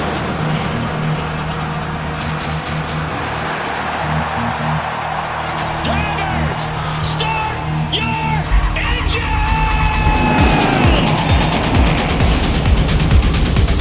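NASCAR stock cars racing at Talladega, a dense roar of engines mixed with crowd yells and whoops, swelling louder toward the end as the pack passes close.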